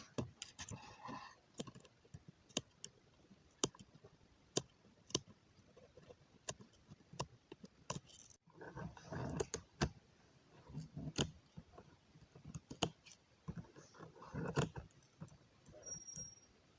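Scissors cut aari embroidery fabric stretched on a frame: sharp, close snips and clicks come one after another at an uneven pace, with brief fabric rustles and quiet gaps between.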